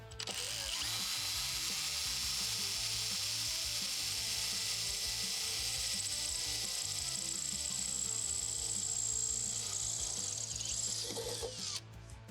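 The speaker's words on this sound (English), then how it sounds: "go ahead and grab a small drill bit to drill a pilot hole" A power drill with a small bit whirs steadily for several seconds at close range, drilling a pilot hole for bed stiffeners on a 2024 Toyota Tacoma, a continuous buzzing motor tone that cuts off at the end.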